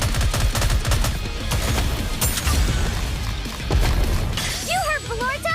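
Dense gunfire and shattering impacts fill a battle in the Nikke video game, continuous loud bursts with a rising synth tone near the end, no clear talk over it.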